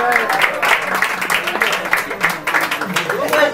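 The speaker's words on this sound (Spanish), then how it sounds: "Aplaudan." Scattered clapping breaks out on a film set, a ragged patter of hands under overlapping voices, fairly close and continuous for a few seconds.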